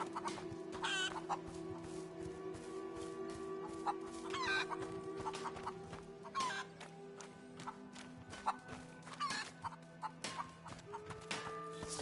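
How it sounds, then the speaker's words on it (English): Chickens cluck and squawk in a village scene in the video game A Plague Tale: Innocence, with scattered nearby calls over a steady background hum, and no speech. "Chickens."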